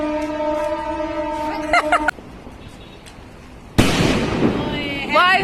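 Sky shot fireworks set off by children at a birthday celebration: a rising whistle that ends abruptly, a short lull, then a loud crackling burst, with voices nearby.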